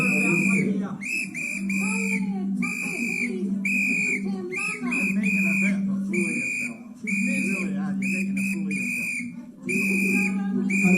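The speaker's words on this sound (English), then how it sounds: "Take the whistle off there." A loud, shrill whistle is blown repeatedly in short sharp blasts, with voices and commotion underneath.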